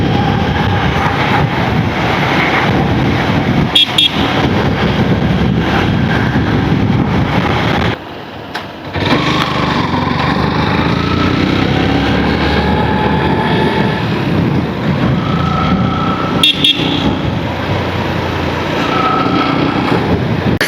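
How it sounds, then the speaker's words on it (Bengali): A motorbike ridden along a coastal road in Odisha with a grinding noise, a continuous loud engine drone with rushing wind, briefly dropping out midway, no talk. "বাইকটা ব্যাপক টান আছে, কিন্তু ওটা ঘ্যার ঘ্যার করে শব্দ হচ্ছে কেন কে জানে"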